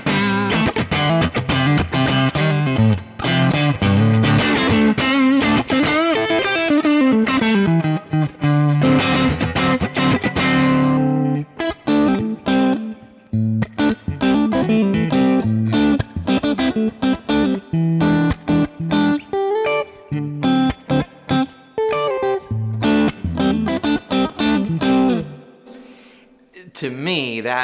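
Electric guitar through a blackface amp profile with a warm, slightly driven tone plays continuous chords and riffs, loud and close, ending with a brief pause and a final strum.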